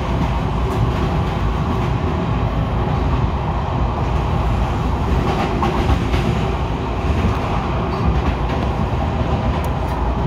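A Miami Metrorail train runs between Dadeland North and Government Center with a loud, steady rumble and rattle of wheels on track, unbroken throughout.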